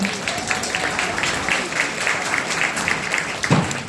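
An indoor audience at a Korean talk and concert event applauds steadily for about four seconds, a dense even patter with a low thump near the end.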